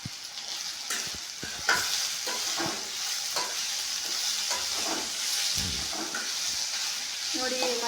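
Okra stirred in hot oil in a pan, a steady bright sizzle with scraping and clinking spatula strokes throughout, close and continuous.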